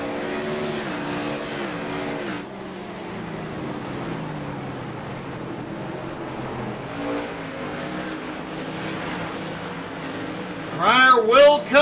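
Race cars at North Wilkesboro speedway roar past in a steady pack, engines droning and shifting pitch, with a louder car sweeping close near the end while a commentator talks over the racing.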